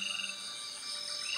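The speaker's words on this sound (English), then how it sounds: "The bigger the frog, the louder the call." A tiny male treehole frog calling from inside a tree hollow, a steady high-pitched ringing call over faint insect and chorus background, close and clear.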